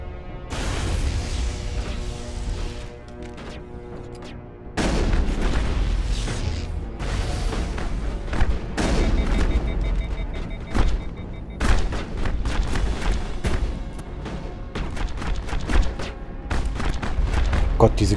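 Bursts of heavy gunfire and booming impacts from an overheating gun in the Mass Effect video game, loud, close and repeated in clusters with brief gaps, mixed with game sounds.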